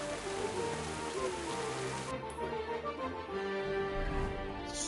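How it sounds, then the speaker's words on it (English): Steady rain patters on a surface in the video game Kingdom Come: Deliverance II, a constant close wash of droplets with faint low rumbles underneath. "It's still raining."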